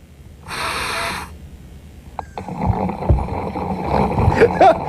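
A loud rushing breath, then gurgling and bubbling underwater, with muffled bubble bursts and watery churning continuing to the end.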